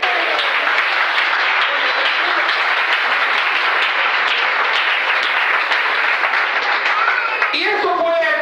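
Loud, sustained applause fills a church regional conference hall, a dense wash of many hands clapping continuously and evenly with crowd noise, and a few cheers rising near the end.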